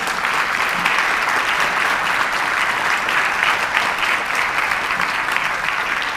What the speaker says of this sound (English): I want to give a round of applause for Paul and all of our four-year students